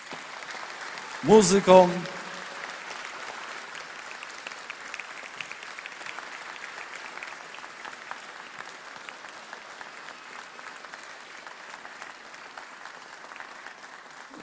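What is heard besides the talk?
audience applauding artists at a carol concert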